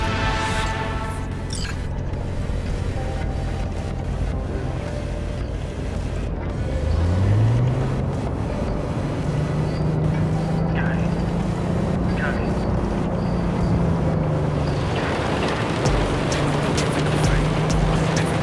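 A car drives through Night City in Cyberpunk 2077, its steady engine drone rising in pitch as it revs, under a constant rushing wind-like noise, with voices talking over it.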